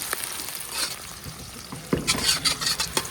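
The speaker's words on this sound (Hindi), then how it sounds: "तो अभी जी हम अपने घी में शामिल करेंगे प्याज" Onions fry in ghee in a pan, a close, low crackling sizzle with stirring scrapes that grow busier and louder in the second half, with no talking.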